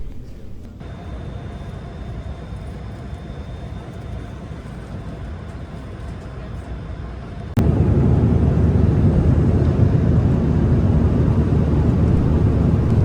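Steady broadband roar of an airplane cabin in flight, a continuous engine and air rush that jumps noticeably louder partway through and holds there, with no voices.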